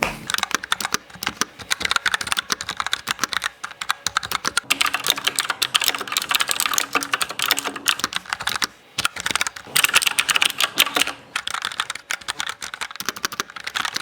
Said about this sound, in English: these key switches aim to be silent and still give you a tactile feel